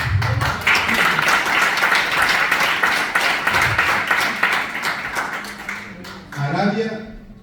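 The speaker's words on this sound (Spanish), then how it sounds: "Vamos a darle un aplauso a Cristo." An audience at a church Bible study lesson breaks into sustained clapping, dense and even for several seconds, before tapering off as a voice resumes speaking.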